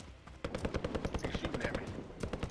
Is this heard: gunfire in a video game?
yes